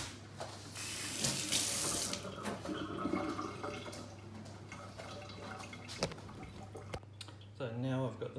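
Water from a kitchen tap runs into a sink with a steady gushing splash that changes as it hits dishes or hands, while a person talks over it.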